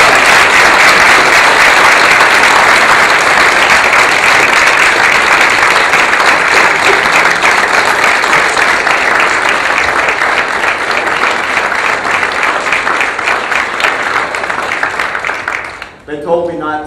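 A large church audience at an Easter pageant applauds loudly and steadily for about sixteen seconds, then the clapping fades out abruptly near the end.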